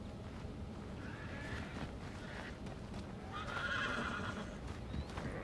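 A horse whinnies and neighs twice in Red Dead Redemption 2, the second call louder and longer, with a light clip-clop of hooves and faint outdoor wind underneath.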